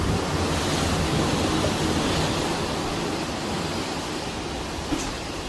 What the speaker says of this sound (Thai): วันนี้ขึ้นลมแรง